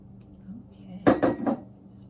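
A spatula scrapes cake batter from a mixing bowl into a baking pan, giving three quick clattering scrapes and knocks of utensil against dish, close and distinct.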